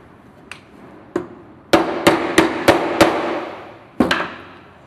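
Metal hammer blows drive a bearing into an electric wet sander during repair: two light taps, then a quick run of five sharp, loud, ringing strikes, and one final hit after a pause.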